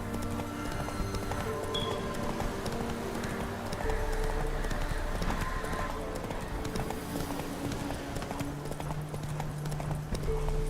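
Horse hooves galloping in the Witcher 3 video game in the city of Novigrad, a steady rhythmic clip-clop of hooves with a faint voice and ambient game sounds beneath.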